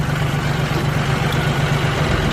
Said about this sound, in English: I'm taking the tractor